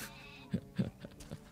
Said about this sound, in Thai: มันคือแพะมันร้องเป็น